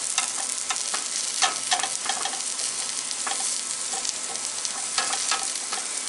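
Stovetop biscuits frying in a pan, a loud, continuous close sizzle with scattered crackles and a few scraping clicks from turning, alone with no talk.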